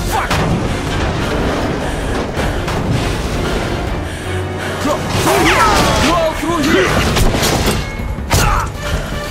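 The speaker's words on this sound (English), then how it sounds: "Take them alive! Stop shooting!" Gunfire and heavy booms fill a chaotic firefight in the post-apocalyptic shooter Metro: Last Light, with bursts and thuds layered under loud shouting voices throughout.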